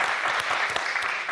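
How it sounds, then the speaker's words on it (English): Brief audience applause at an arts talk event, a short burst of steady clapping at moderate volume with no talk over it. "So I think that deserves a round of applause."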